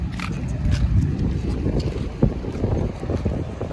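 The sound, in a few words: boat on rough sea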